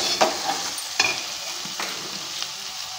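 Spice masala frying in a pan while being stirred, a low steady sizzle broken by a few sharp scrapes and clicks of the spoon at irregular intervals, close and fairly quiet with no talking.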